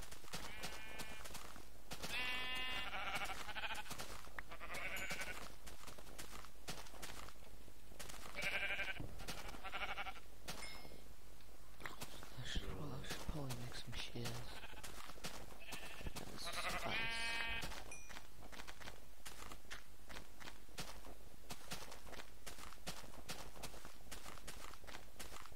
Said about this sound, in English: Oh, 3 sheep.